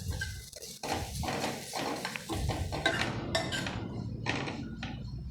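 Grated coconut roasts in a pan for wheat unniyappam, with soft scraping and clinking as a spoon stirs it, plus a low sizzle underneath, fairly close and steady.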